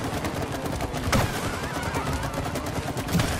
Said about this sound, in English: Keep shooting. Yep, yep. Just keep shooting. Skeet shooting.